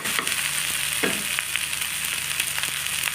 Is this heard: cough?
no